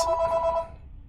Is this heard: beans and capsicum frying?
no